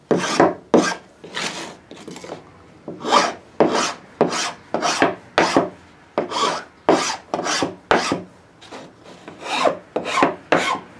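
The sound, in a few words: filing down a rough edge of melamine-covered plywood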